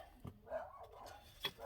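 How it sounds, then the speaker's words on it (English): Dogs bark faintly in the background of a home, a couple of soft, distant yips and a brief whine over a quiet room. "Sorry about the dogs, I can't shut them up"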